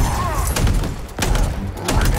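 Heavy shotgun blasts boom in Halo Infinite's campaign, several loud thumping shots spaced irregularly over dense game noise, with a voice faintly underneath.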